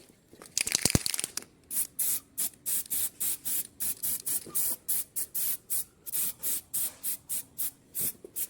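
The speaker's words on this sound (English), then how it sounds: "give the bracket a quick spray" Short bursts of aerosol spray paint hit an engine bracket from an old VW 1.9 PD diesel, a fast regular series of hissing puffs close by after an initial crinkling rattle, with no talking.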